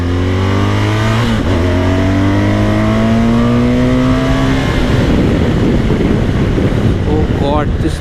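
A BMW S1000RR sport bike's engine climbs in pitch as it accelerates hard at speed, then gives way to a loud rush of wind roar, close and continuous throughout.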